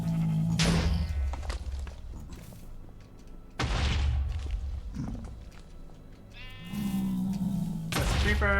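A sheep creature in a video game gives several loud, wavering bleats, close and repeated, separated by short pauses.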